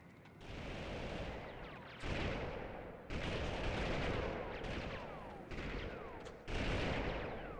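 Bursts of rapid gunfire and booming weapon blasts from the video game Army Men: Sarge's Heroes come in repeated loud volleys separated by brief gaps, each burst lasting a second or two.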